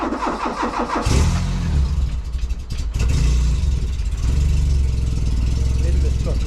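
A 1988 Peugeot 205 GTI 1.9 engine cranks and fires after a second, then settles into a loud, close, slightly spluttery idle with uneven pulsing that runs steadily to the end.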